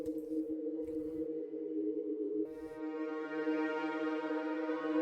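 Layered synth pads from the X-Band plugin in FL Studio for a UK drill beat, a quiet sustained chord drone with soft tonal blips at first, then a brighter, richer pad swelling in and holding steadily.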